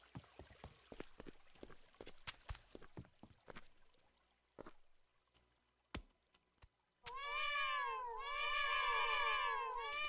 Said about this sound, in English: Let's see if I can bribe the cat with some raw meat.